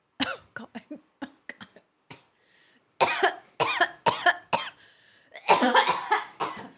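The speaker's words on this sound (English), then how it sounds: "Well, it's something that's making you cough." Someone coughs repeatedly, starting with a string of quick, light hacks, then a pause before several louder, harsher coughs and a throat-clearing burst close by.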